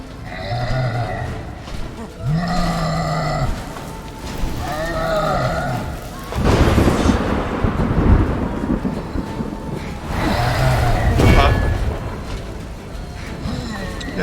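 Thunder and a lightning strike in Witcher 3's Blood and Wine, a loud broadband rumbling crash that swells twice over the second half, following sheep-like bleats and game sounds earlier on.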